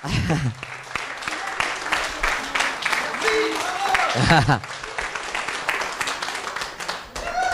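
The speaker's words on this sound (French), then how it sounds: "on les applaudit bien fort, tous en même temps" Audience applause at a live stage show, a steady wash of clapping from a crowd mixed with voices and chatter throughout.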